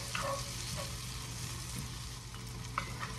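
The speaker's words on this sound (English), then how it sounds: "We just want to swirl that around a minute or so to get the raw taste off of the garlic." Garlic frying in a pot, a steady soft sizzle with a few light stirring clinks, close and continuous, no talking.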